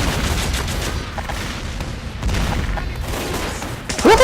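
Gunfire from a weapon in the video game Team Fortress 2, a loud dense burst of shots filling the clip, ending with a sharp tonal impact sound.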